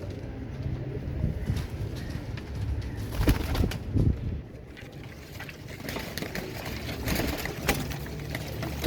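Kaldumay pigeons coo softly and repeatedly, several birds at close range, against a constant background hum with occasional rustling.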